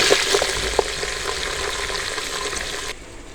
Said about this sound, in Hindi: कलर चेंज होने तक प्याज को हम भूनेंगे अच्छी तरह